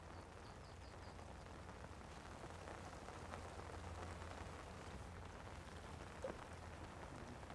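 Rain patters steadily and faintly on the surface of water and nearby ground during float fishing, with no voices over the soft, even hiss.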